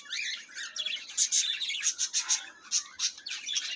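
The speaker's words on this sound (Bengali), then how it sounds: "শুরু করেছিলাম 2 জোড়া পাখি নিয়ে, 1 জোড়া বাজিগর আর 1 জোড়া জেব্রা ফিঞ্চ।" Pet budgerigars and zebra finches in a home bird farm chirp continuously, a busy layered chatter of sharp, high tweets and squawky calls, close and lively without any voices.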